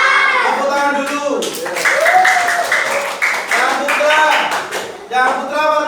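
Classroom of students clapping their hands together in a loud, continuous patter, with children's voices and speech mixed in over the top.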